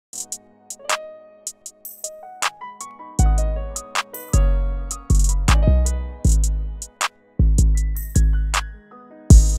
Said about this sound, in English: the last thing I added was another hi-hat pattern that just sounds like this